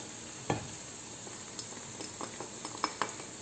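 Taco filling with cream and spices stirred in a pan, a quiet steady sizzle under light scrapes and a few small metallic clicks of the spoon against the pan, no talk.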